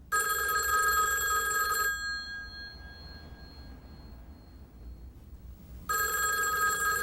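A telephone bell rings loudly in a steady trill, stops for several seconds of quiet room tone, then starts ringing again.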